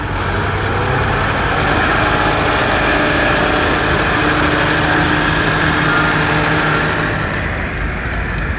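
An antique 180 narrow front tractor engine runs loud and close at a steady, even drone at the Maryland Steam Show, fading slightly near the end.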